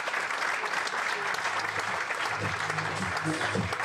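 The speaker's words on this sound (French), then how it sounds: "Sous vos applaudissements," Audience applause at a sport-health barometer event greets the Ipsos director of health studies as she comes on stage: a dense, steady roar of clapping that holds for about four seconds, with faint voices underneath toward the end.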